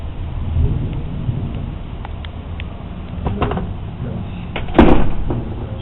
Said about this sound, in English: Thunderstorm in my area.